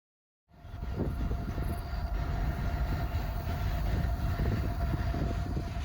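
A mixed freight train rolls past on the Austin Subdivision near Milano, its rumble and clatter rising quickly from silence and then holding steady and loud, with no voices.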